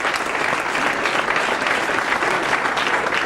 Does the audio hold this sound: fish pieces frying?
no